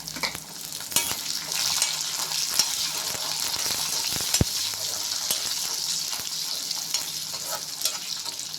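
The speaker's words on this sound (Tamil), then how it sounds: "இந்த டைமில் கொஞ்சம் வெங்காயத்தையும் போட்டு வதக்கணும்." Garlic and onion sauté in hot oil in a pan for a traditional garlic kara kulambu, giving a steady close-up sizzle with occasional stirring scrapes and taps throughout.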